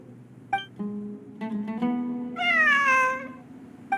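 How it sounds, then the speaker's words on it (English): A cat meowing in the video game Genshin Impact, one long rising and falling meow over a steady tonal game background, clear and close. "It really is a cat."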